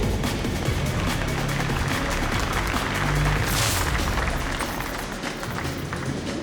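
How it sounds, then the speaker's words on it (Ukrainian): A kickboxing event crowd applauds a fighter named Dmitry, a dense, loud wash of clapping and cheering that swells in the middle and eases slightly toward the end. "Ваші оплески Дмитру!"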